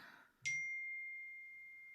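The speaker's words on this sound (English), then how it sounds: "that's my phone going off." A mobile phone notification goes off indoors: one bright chime that rings on as a long, steady, fading tone, right after a moment of quiet talk.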